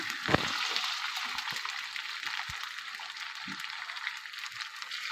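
Potato pieces frying in hot oil with cumin seeds, a steady close hiss and sizzle with occasional soft stirring knocks and small pops.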